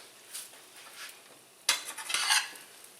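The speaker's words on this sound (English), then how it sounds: "Throw them bacons on there" Red bacon strips dropped into a hot frying pan: a soft scrape early on, then a sudden loud burst of crackling sizzle with clattering pan sounds that carries on to the end, with no talking.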